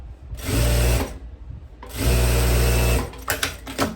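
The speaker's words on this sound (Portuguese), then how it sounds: "Vocês só vão deixar a máquina puxar da mão de vocês pra ficar flexível a costura." Electric sewing machine stitching fabric for a kimono-style dress, two loud, steady whirring runs of about half a second and one second, separated by a quieter pause, close by.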